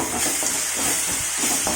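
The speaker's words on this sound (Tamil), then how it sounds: "கொட்டிட்டு நல்லா வதக்குங்க. கொஞ்சம் வதங்கட்டும்." Onions with cumin and fennel powder sizzle and fry steadily in a pan for a chilli egg curry, a close continuous hiss with faint stirring scrapes.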